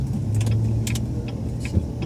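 Inside a car moving at night near Los Angeles airport, a low steady road and engine rumble with faint rattles and jingles over it, no talking.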